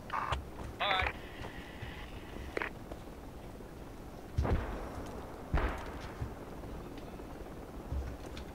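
Gunfire and tank fire in a multiplayer war video game: a few sharp, heavy bursts and booms stand out against a dense low rumble, with radio chatter and voices talking in between.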